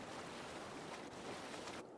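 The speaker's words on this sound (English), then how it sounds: "Full sending it across these waves." A boat crosses rough ocean waves in Assassin's Creed Valhalla, with a continuous wash of surf and wind noise that stays steady and fairly quiet, with no voices.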